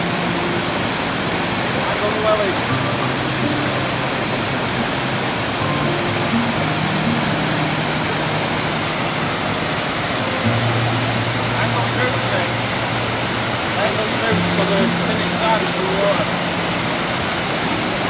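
Steady rushing water of a waterfall on the Pont Melin Fach waterfall trail, a continuous broadband roar filling the whole clip with low voices talking faintly beneath it.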